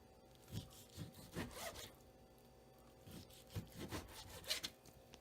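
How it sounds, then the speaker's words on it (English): A knife slices clam chowder ingredients into strips on a cutting board, with faint, close rasping strokes arriving in irregular clusters separated by quiet pauses. "I'm cutting them in strips right now,"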